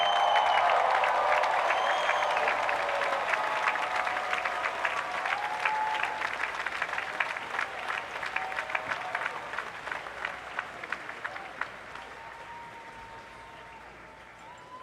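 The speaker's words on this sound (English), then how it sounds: "give a round of applause to those who helped you on your journey" UVA Class of 2024 graduates at commencement applaud the audience in a long, loud wave of clapping from a huge outdoor crowd that gradually thins and fades toward the end.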